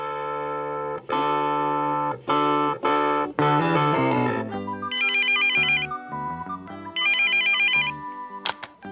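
A telephone ringtone plays alone as a melodic electronic tune with repeated note bursts and bright high chirps, loud and steady for several seconds before a call is answered, set in a married couple's phone conversation.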